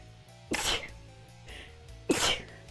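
Two sharp sneezes about a second and a half apart, each a quick loud burst over faint background game music.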